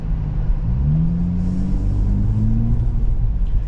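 A 2023 Nissan Z Performance engine revs in a dealership parking lot under construction, a steady low, loud rumble with gently rising and falling pitch sweeps throughout, close and continuous with no talking.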